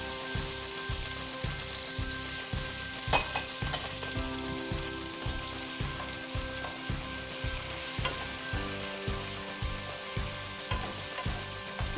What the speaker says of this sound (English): Quite a hot pan, it's jumping a little bit